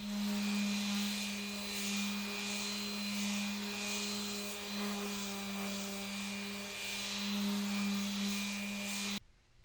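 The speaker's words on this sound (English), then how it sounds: "I switched out to 100 grit to smooth it over" Wooden cutting board sanded with a 100 grit power sander, a steady loud droning whine with a strong low hum, running continuously before cutting off abruptly near the end.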